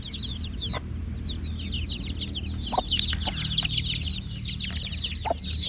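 Chickens and a rooster cluck and chatter steadily at a farmyard during egg hatching, with repeated short calls over a constant background of fowl noise and a few sharper squawks standing out.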